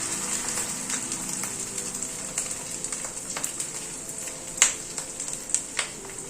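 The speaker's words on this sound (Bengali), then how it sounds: "তেলটা গরম হয়ে গিয়েছে এই মাছের ডিমটাকে না এইভাবে পুরোটা দিয়ে দিচ্ছি" Fish roe dropped into hot oil for a short meal, giving a dense, crackling sizzle with scattered sharp pops, one louder spatter near the end, close and steady with no voices.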